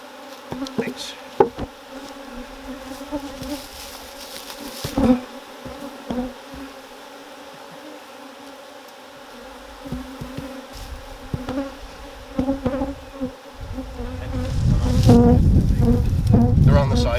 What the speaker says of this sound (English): More bees up in the air, but that's how you gotta get them out of there.